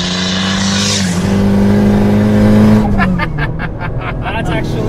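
A turbocharged 2014 Honda Civic sleeper tuned to about 500 hp pulls at half throttle in fourth gear, its engine drone rising loud and close before easing off, with people talking over it.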